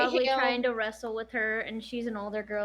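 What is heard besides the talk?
No everyday noises stand out.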